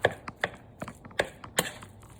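Ground beef being stirred and broken up in a pan, cooked until dry rather than pink: a series of sharp, irregular scraping taps about every third of a second, close and fairly quiet, with no voices.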